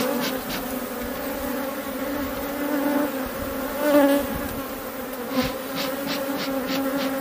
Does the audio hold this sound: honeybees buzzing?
yes